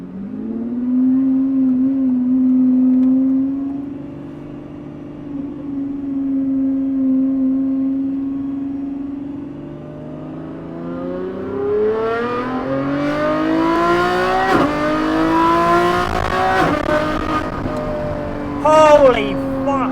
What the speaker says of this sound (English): It's just like a symphony of V12 exhaust sound, exactly how it should be.